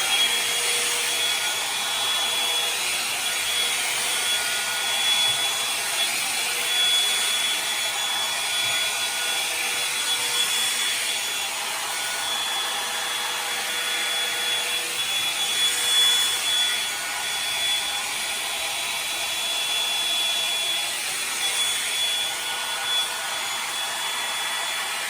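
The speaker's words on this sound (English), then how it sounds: "I'm gonna start blow drying it" Revlon hair styling tool blowing on its highest setting as it dries hair, a steady loud airy whoosh with a faint whine that runs unbroken throughout, no talking.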